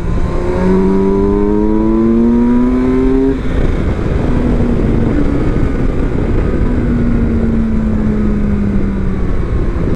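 A 2024 Kawasaki Versys 1000SE motorcycle engine pulls hard past 8000 rpm, its rising tone climbing steadily before a gear change, then droning on at high revs under heavy wind rush, loud and close throughout.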